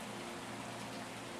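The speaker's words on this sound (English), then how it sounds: "The rain is still falling, still gentle, still soft." Gentle rain falling at night, a soft, even hiss of drops spread across the whole stretch, faint and continuous with no other sounds.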